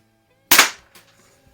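A single sharp crack from a Crosman 600 air pistol, loud and close, decaying quickly with a faint smaller click after it, no talking.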